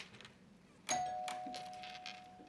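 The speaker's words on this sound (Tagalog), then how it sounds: "Oh, may nag-doorbell." A single doorbell chime rings in a quiet room, one sharp strike that leaves a sustained tone fading slowly over the next couple of seconds.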